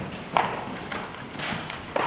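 Hooves of a ridden horse clip-clopping at a walk, a few spaced, moderately close hoof strikes in a slow, uneven rhythm over faint background noise.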